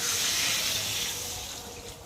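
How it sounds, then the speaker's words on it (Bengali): Water pours into a pan of frying soybean and potato curry, setting off a loud, steady hissing rush that eases off slightly toward the end. "আর এখন আমি এর মধ্যে জল ঢেলে দেবো,"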